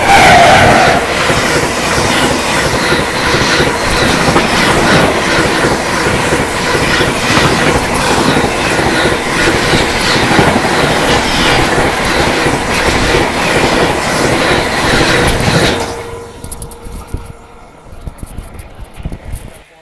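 A passing Indian Railways train, the 12314 New Delhi–Sealdah Rajdhani Express overtaking a festival special, gives a loud, steady rumble with clickety-clack wheel beats for about fifteen seconds, then drops quickly to a faint, distant rattle.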